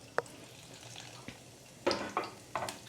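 Cumin seeds hit hot oil for a vaghar tempering for a green beans shaak, giving a few soft clicks and then loud bursts of crackling sizzle close by.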